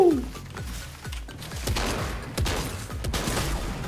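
Rapid gunfire in a shooting video game, with a bright opening shot followed by a dense run of repeated booming shots over a constant game backdrop.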